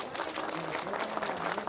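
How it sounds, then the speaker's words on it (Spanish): An audience at an electoral handover ceremony applauds continuously, a dense wash of clapping from a crowd heard at moderate distance, with a voice briefly audible underneath. "Un aplauso, por favor."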